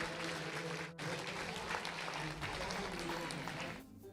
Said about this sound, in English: Give these exhibitors a great round of applause.